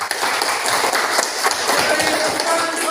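A classroom group claps for group 2, a dense, steady wash of many hands throughout, fairly close and loud, with voices mixed in.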